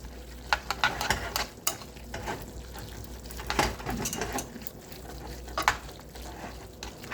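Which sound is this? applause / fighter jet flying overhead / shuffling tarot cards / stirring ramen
stirring ramen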